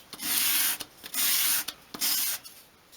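Wood edges on a 1/12th scale miniature chest are sanded into a bevel, heard as three rhythmic, close, scratchy rubbing strokes separated by short pauses.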